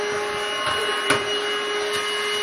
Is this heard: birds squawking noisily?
no